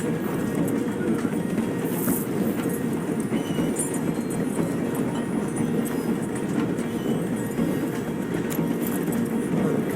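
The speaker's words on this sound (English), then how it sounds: "The train is slowing down to go through the station" Train in Red Dead Redemption 2 slowing to pass through a station, a steady rumbling roll with faint clickety-clack of the cars, continuous and fairly loud throughout with no talk.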